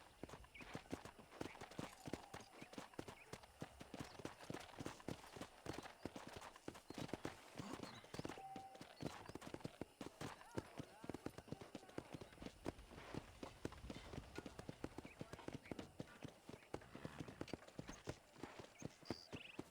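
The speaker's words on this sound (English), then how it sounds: "let's see if you can still ride a horse" Fast, rhythmic hoofbeats of a galloping horse in Red Dead Redemption, steady and continuous throughout, fairly close with little else around.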